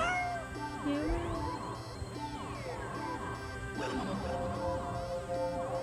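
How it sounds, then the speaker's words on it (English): Cat meowing in a horror-themed video game, with a few drawn-out meows over a busy, layered game soundtrack of tones and sweeping effects. "The cat sounds happy."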